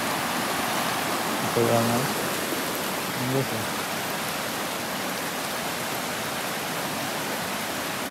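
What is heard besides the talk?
swollen brown river flowing after heavy rain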